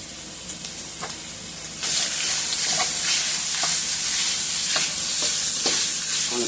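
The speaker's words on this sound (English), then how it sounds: "I'm going to add my spicy sausage right in there with it. I'm going to go ahead and cook that down first." Spicy sausage fries in a pan with a constant bright sizzle that jumps louder partway through. Scattered scrapes and taps of stirring sound over the hiss.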